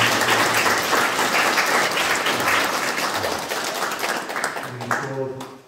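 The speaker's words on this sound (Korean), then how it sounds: "우리 좀 수고하신 분들 좀 박수를 시작해 주셨으면 좋겠는데" A church congregation applauds the volunteers and building committee chair at a 25th anniversary and education hall dedication service, with dense, sustained clapping that thins and fades toward the end while a voice speaks over it.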